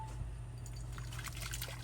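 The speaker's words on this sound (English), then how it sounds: "We're gonna pour this into this bowl, then I'm gonna strain it back into the pot." A syrup mixture poured from a pot into a bowl in an RV kitchen, giving a steady liquid trickle and splash that runs continuously and close by, with no voices.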